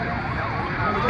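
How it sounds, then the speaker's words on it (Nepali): Fire engine siren rising behind a crowded street scene near a bridge during a building fire, loud and continuous over dense background noise and murmur. "पछाडिबाट दमकलाको आवाज सुनिरहेछ है हामीले"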